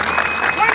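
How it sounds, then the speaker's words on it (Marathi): A crowd claps loudly and densely at an outdoor protest march, in a brief burst with voices mixed in. "आपल्या सर्वांसाठी एकदा जोरदार टाळ्यांचा हात होता."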